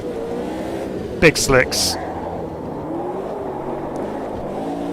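A race car powered by a Cosworth DFV engine drones steadily in Automobilista 2 while someone speaks briefly over it near the start.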